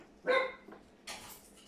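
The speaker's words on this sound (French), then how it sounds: "le chien qui s'en mêle" A single sharp dog bark, close and loud, followed a moment later by a brief breathy noise.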